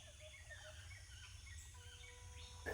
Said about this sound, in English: And there's some very tropical birds in the area. Beautiful sound.